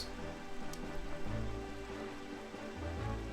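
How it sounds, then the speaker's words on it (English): Rain patters steadily on the ocean in The Legend of Zelda: The Wind Waker, a soft continuous hiss of drops over a low droning game music bed. "I guess a little bit of rain just kind of ruins it"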